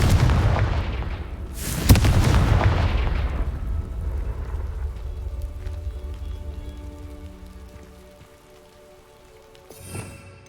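Confringo blasting spell explosions in Hogwarts Legacy: a loud close blast with a sharp crack near the start, then a long rumbling decay fading into quiet game ambience, with a smaller burst near the end.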